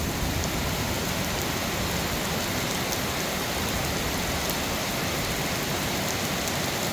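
Heavy rain pours steadily and loudly in the morning in Uttaradit, Thailand, a dense unbroken hiss of water hitting surfaces, with no voices.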